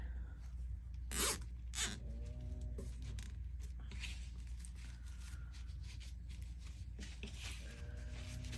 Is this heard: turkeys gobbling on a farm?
no